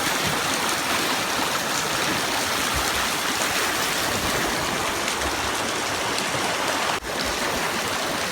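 The muddy, flooding Buffalo River rushes past in a steady, loud, unbroken roar of churning water, close by, with no voices.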